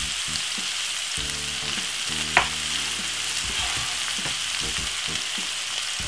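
Cabbage and spring onion stir-frying in a hot pan, a steady close hiss running throughout with one sharp clink of a utensil partway through and no talking.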